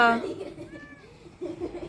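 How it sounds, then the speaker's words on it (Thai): A black cat stuck high up in a tree gives a single drawn-out meow near the middle, heard faintly over background speech and outdoor noise. "แมวฉันขึ้นไปข้างบน ลงไม่ได้"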